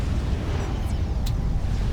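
Explosion in the real-time strategy game Forged Alliance Forever, heard as a sustained, loud low-frequency rumble across the whole moment, with a couple of brief higher hissing bursts on top.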